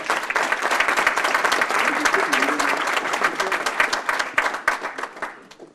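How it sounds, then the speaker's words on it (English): Audience applause at a student town hall meeting greeting the Mayor of Nashville, a dense, loud burst of many hands clapping that holds steady for several seconds before thinning out near the end. "please give a big round of applause for Mayor Carl Dean of Nashville"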